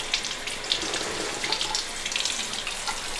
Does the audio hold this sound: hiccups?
no